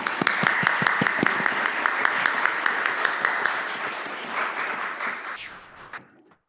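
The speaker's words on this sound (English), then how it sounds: "I think we can applaud." A congregation applauds during a Kabbalat Shabbat service shared with a Lutheran church: steady, fairly close clapping with distinct individual claps, fading out toward the end.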